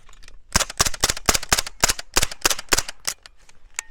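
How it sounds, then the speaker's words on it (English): A suppressed MP5SD submachine gun fires nine spaced single shots of 147 grain subsonic, 124 grain NATO and 115 grain cheap rounds, each a crisp muffled crack in an even rhythm, with the last few slightly louder. "next up, MP5SD. Again, first 3 rounds are 147 grain subsonic, then 124 grain NATO, finally 115 grain El Cheapo ammo."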